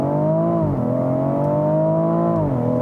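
A BMW X3 M40i's engine and exhaust pull hard under acceleration, with a loud, steady drone that drops twice at upshifts before climbing again, heard from inside.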